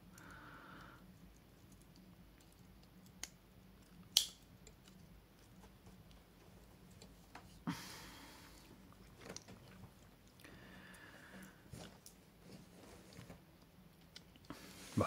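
Tools of Mikov Piknik, Mikov Praktik and Victorinox pocket knives, one of them with a screwdriver, being opened one after another, giving faint, scattered metallic clicks and snaps with a few sharper ticks in a quiet room.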